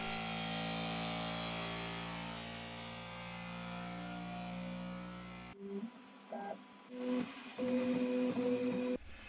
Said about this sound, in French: la machine va lancer une procédure d'autotest et de calibration